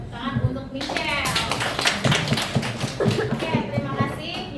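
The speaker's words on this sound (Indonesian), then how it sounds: "kita beri tepuk tangan untuk Michelle" Classroom applause for a student presenter, scattered claps from a group of pupils with lively chatter and a few voices over the top, steady and moderately loud throughout.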